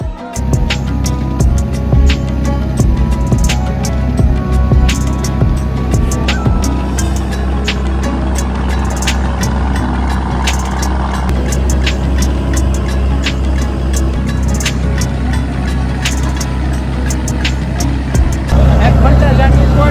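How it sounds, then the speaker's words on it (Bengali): A crowded passenger launch pulls away from a river ghat in the rain, its engine a loud, steady low drone throughout, with busy background noise and occasional sharp clicks. "এবার ব্যাপারটা হচ্ছে লঞ্চটা ছাড়বে এখন।"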